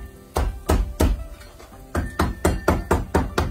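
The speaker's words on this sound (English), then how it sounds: "I'm going to use my trusty Asian cleaver and I'm going to crush" An Asian cleaver crushes lemongrass on a board in a series of about ten sharp, close thumps, a few spaced apart then a quicker rhythmic run of strikes.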